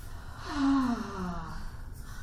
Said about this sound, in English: take a deep breath in and breathe out